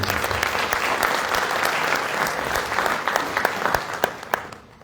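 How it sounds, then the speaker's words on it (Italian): An audience applauds at a book presentation, dense continuous clapping that thins out with a few louder individual claps near the end. "Un applauso quindi a Bachisio Bandinu."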